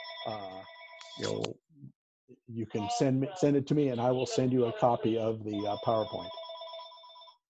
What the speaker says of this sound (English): I get spam calls all day long on my home phone.